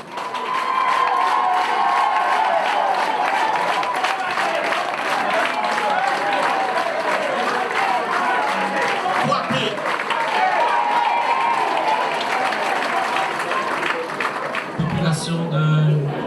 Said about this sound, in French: Merci de cette acclamation.